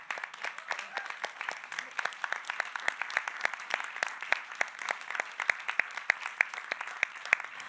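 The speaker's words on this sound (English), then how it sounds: "I think I have to give you all a round of applause" Steady round of applause from a kirtan audience, many hands clapping in a quick, even patter heard at a moderate distance, continuing throughout with crisp individual claps standing out.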